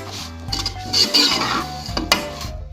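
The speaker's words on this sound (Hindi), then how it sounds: "अब आप इसमें सेवइयाँ डालकर इनको हल्का सा भूनें, बिल्कुल हल्का सा आपने भूनना है" Vermicelli being lightly roasted in a pan for sawaiyon ka zarda, with close metallic scraping and stirring of a spoon against the pan and a faint sizzle, heard alone without talk.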